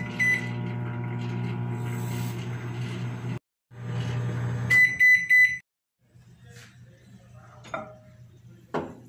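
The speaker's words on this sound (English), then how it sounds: "Hot bil microwave." A steady low hum of a microwave running, broken by short pauses, with a few high beeps and clicks near the middle and toward the end.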